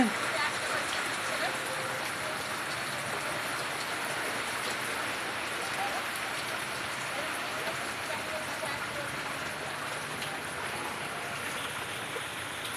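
Steady rain falls throughout, a dense even hiss of drops pattering on surfaces, with no letup from start to finish.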